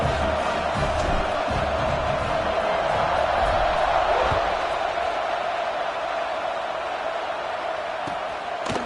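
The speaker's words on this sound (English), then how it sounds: "this crowd is buzzing after that last score" A packed football stadium crowd keeps up a steady, loud roar just after a score while players line up for the kickoff, the dense wash of voices holding constant throughout with no clear announcer speech on top.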